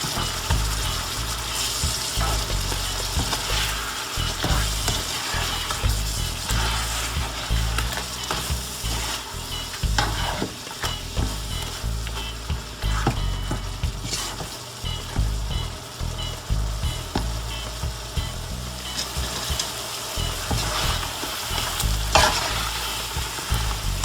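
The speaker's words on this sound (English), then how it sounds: "I want to cook it for a few more seconds and try to get this down to a glaze. The tamarind sauce, that is." Shrimp frying in a reducing tamarind sauce, a steady close sizzle and bubbling with stirring and scraping in the pan, continuous throughout with no talking.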